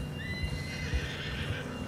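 A horse in the video game Red Dead Redemption 2 whinnies in a long rising neigh over a soft, steady clip-clop of hooves, close and clear, with no talking.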